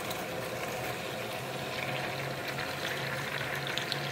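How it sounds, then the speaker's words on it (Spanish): Water is poured into a pot of rice being cooked, giving a continuous faint splashing and trickling hiss with no talk. "Voy a echarle agua para que echarle ya al arroz, para que ya con el agua ya se cocine"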